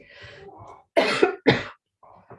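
Two sharp, harsh coughs close up, preceded by a soft throaty sound and followed by quiet breaths.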